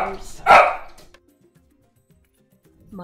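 A dog gives a single loud bark indoors, a short sharp burst near the start after brief voices, followed by quiet room tone with faint shuffling and another voice at the end.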